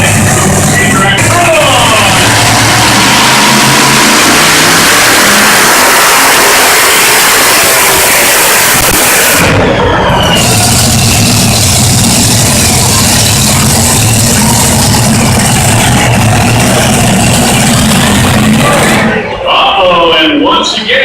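A pulling tractor fitted with a second engine roars loud and steady down the track at the Troy fair tractor pull, its engine droning continuously with a brief dip midway while an announcer talks over the noise.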